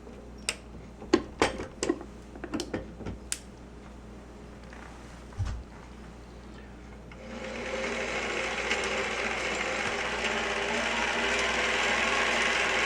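A hand-cranked Mitchell film camera, serial number 5, with its motor removed, runs as a steady, close mechanical whir and rattle after a few scattered clicks and knocks.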